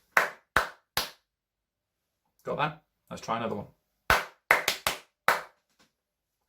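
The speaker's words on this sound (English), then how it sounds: "Clap this rhythm with me." Hands clap a rhythm during a Sunday church message: three sharp claps, a pause, then a spoken phrase, then a quicker pattern of five crisp claps, close and dry. Someone talks between the clapped groups.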